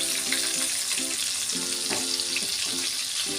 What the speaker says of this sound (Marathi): बोंबील व्यवस्थित क्रिस्पी आणि गोल्डन रंग येईपर्यंत व्यवस्थित तळून घ्यायचे आहेत